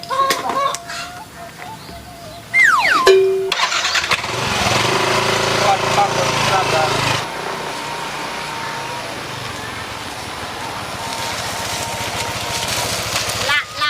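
A small motorcycle engine cranks and catches, then idles with a rough, buzzing drone; voices talk nearby and birds are faintly audible early on.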